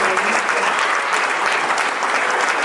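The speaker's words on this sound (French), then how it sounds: "donc vous pouvez les applaudir" Dense, steady audience applause for the crew of a cabaret arts show, loud and continuous throughout.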